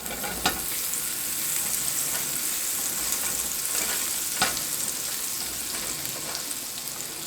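Butter sizzles in a hot pan on the stove for a grilled Reuben, a steady close crackling fizz with a few sharp utensil taps, no voices.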